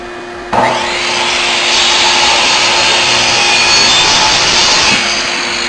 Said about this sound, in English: Need to turn the vacuum.